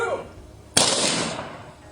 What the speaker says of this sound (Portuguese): A salva de tiros.